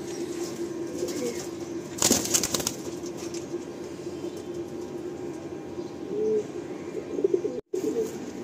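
Pigeons coo softly at a pigeon sale in Park Circus, Kolkata. A sudden burst of wings flapping marks their release, and a low, steady outdoor hum runs underneath.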